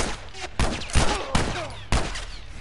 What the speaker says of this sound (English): I just shot a dude right in the head, he still ain't die.